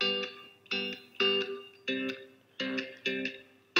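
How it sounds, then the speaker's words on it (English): Dry electric guitar playing a repeated chord pattern, each strum cutting off cleanly, about six chords in a steady rhythm with no talking. "I'll first play it without the reverb"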